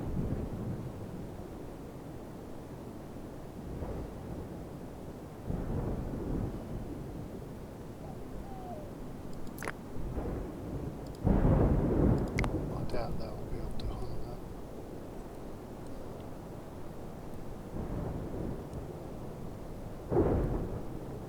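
Thunderstorm in the video game Dawn of Man rumbles with repeated low thunder rolls and sharp crackling strikes over steady wind, the louder bursts around the middle and end.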